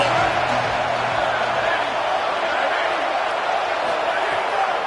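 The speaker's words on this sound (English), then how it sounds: "Decibels rising as the crowd gets behind this defense on third down" Football stadium crowd roaring on third down at a Legion versus NC State game, a dense, sustained wash of cheering that stays loud and steady throughout.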